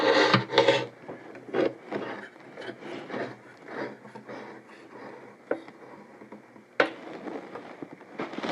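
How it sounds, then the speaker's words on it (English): Clamps are being fitted inside an 1890 Martin guitar under restoration, making intermittent close wooden knocks, rubs and ratcheting clicks separated by quiet pauses. "Now I'm going to begin placing clamps inside the guitar."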